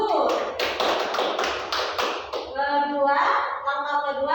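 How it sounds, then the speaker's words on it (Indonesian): Classroom applause for a student, a burst of rhythmic hand claps from a group for about two seconds, then children's voices chattering and chanting over the fading claps. "Beri tepuk tangan untuk Pita Gur."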